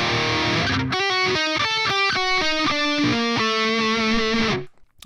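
Distorted electric guitar playing a bridge riff, loud and alone: a quick sequence of picked single notes in a descending, rhythmic pattern that rings briefly at the end before stopping.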